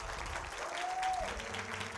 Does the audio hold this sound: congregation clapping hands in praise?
yes